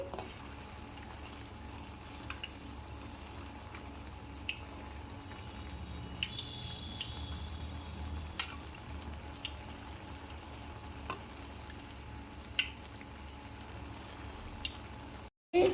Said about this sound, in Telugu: ఆయిల్లో వేసుకున్న తర్వాత ఇలా నూనె అనేది పోస్తూ ఉంటే బాగా వేగుతుందండి